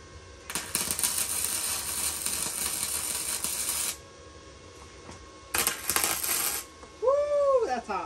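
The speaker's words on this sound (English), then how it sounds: "I'm going to tack weld this, which basically just means I'm doing a little weld here and a little weld there." Steel for a hay feeder is tack welded. Two loud bursts of crackling, buzzing arc run for a few seconds each, separated by a quiet pause. A faint ringing metallic tone follows at the end.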